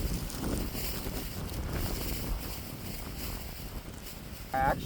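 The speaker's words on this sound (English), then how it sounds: "I don't know where all the wind comes from" Steady wind at a lake in winter rushes across the microphone with a low, continuous roar, and a brief sharper noise rises near the end.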